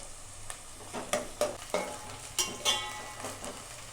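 Onion and garlic fry in tempered oil for crab curry, giving a soft sizzle beneath a series of close scraping stirs, about eight strokes spread unevenly over a few seconds.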